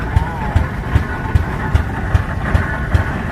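A 1918 Rumley Model M single-cylinder tractor engine runs with a slow, regular thump, each beat evenly spaced and heavy, close by over a rough mechanical clatter.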